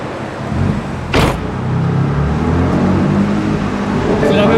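A remapped BMW M2 Competition idling and revving: a loud, close, low engine and exhaust rumble with a sharp burst early on, then a steady deep drone that swells slightly toward the end.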